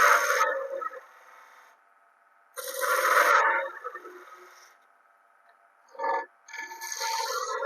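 A wood carving gouge cuts sideways into confined beads on a carved figure, making short rasping scraping strokes in separate bursts with quiet gaps between, close and clear, without talk.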